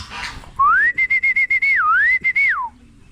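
A loud, clear human whistle calling pigeons, rising and warbling in a long sustained call broken by a few quick stutters, heard alone and close.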